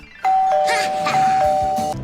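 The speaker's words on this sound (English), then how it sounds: "Real guests always ring the bell." A bright electronic doorbell chime rings out loud and close, its steady tone sustained across two presses with a brief gap between.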